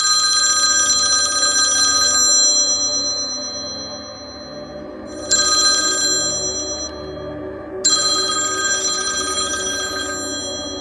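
A telephone ringing with an incoming call, three long electronic ring bursts separated by short pauses, loud and close with no talk.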